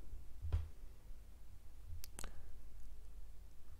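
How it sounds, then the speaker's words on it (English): A single soft mouse click sounds near the start, then a quick pair of faint clicks follows a moment later against quiet room hiss, with no speech. "So I'll just click on it to open it up."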